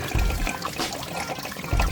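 Coolant drains from a pulled fitting at the bottom of the water pump on a BMW 528i F10 N20 engine, a steady close splattering trickle running alone without speech.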